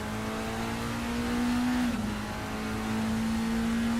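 Toyota TS020 race car in a racing video game, engine holding a high steady drone that dips briefly mid-clip as if shifting, then climbs back to a sustained loud whine.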